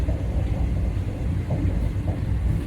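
A passenger train arriving at Vang Vieng station in Laos, a steady loud low rumble from inside the carriage with faint creaks as it slows.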